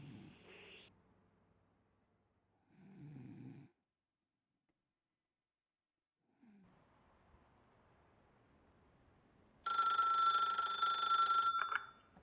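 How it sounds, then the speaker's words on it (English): A telephone rings in one loud, bright, buzzing burst of about two seconds near the end, after a snore-like breathy stretch and quiet pauses. "A phone call."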